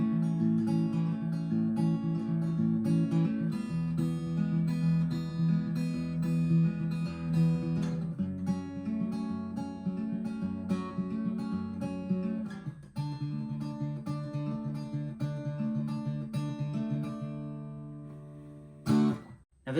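Acoustic guitar plays the intro riff of a folk song, a steady run of picked notes ringing together with sustained low tones, close and alone, with a brief break near the end.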